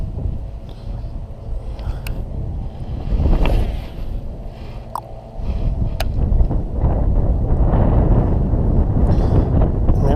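Wind gusting past a microphone on a fishing boat out on the water, a loud continuous rumbling roar that swells and buffets, with occasional small knocks and no speech.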